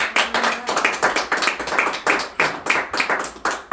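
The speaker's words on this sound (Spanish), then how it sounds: "Dele palmas al Rey" Worshippers in a church congregation clap together in a quick, regular rhythm, sharp individual claps forming a steady beat, loud and near, with no talking over them.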